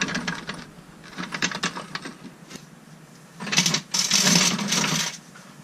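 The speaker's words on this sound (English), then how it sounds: "With a jack, I'm going to hold the tank in place so I can install the rivets" Rivets are set with a hand tool to mount a water tank in a Sprinter van conversion, heard as bursts of rapid metallic clicking and rattling, then a louder sustained grinding burst near the end.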